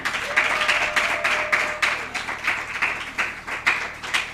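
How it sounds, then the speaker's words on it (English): Rhythmic clapping from an audience at a talk on relationship expectations, hands beating in a steady, regular pulse of distinct claps, fairly close and even throughout. "please give yourselves a round of applause"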